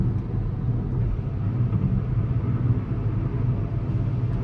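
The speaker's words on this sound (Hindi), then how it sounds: "100-105 की स्पीड पे आपको ये जो रोड नॉइज आई है वो भाई इसके स्टॉक टायर हैं" Steady low rumble of tire and road noise inside a Hyundai Aura CNG sedan on stock tires cruising a highway at around 100 km/h, a constant broadband drone with no talking.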